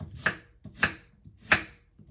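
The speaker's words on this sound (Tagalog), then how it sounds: "tapos ko lang nahiwa yung bawang, saka sibuyas" Knife chopping garlic and onion on a cutting board, three sharp, separate chops spaced roughly half to three quarters of a second apart, close and crisp, with no one talking.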